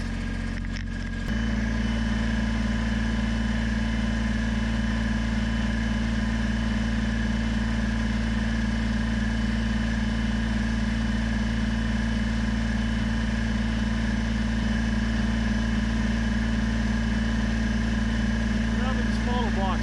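A forklift engine idles steadily and loudly close by through the whole stretch, a constant low droning hum with a brief shift near the start, while a person talks over it during work moving concrete blocks on a pallet.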